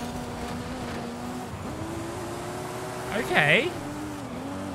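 Race cars in Forza Horizon 5, among them a Supra and a Nissan R34 GTR, drone along with a steady engine tone that climbs through gear shifts and swells briefly, while a player speaks over it.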